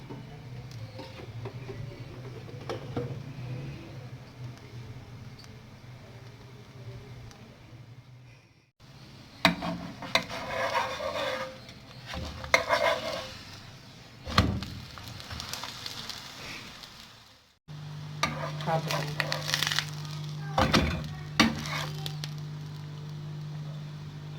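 A leftover-dal paratha fries in oil on a pan over low heat, giving a soft, steady sizzle and crackle that swells when the bread is flipped and oil is added, close by and without talking.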